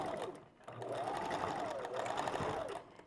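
A sewing machine back stitches a track of hair onto a wig in a steady, close, continuous whir. A faint background tone wavers throughout.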